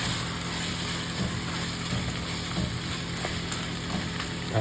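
Chicken sizzles and fries steadily in a pan while being stirred, with soft scraping knocks through a constant hiss close by.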